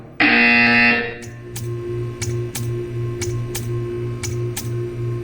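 A loud electronic buzzer sounds once at the start in a Portal 2 test chamber, followed by a soft steady hum and a run of faint, evenly spaced ticks.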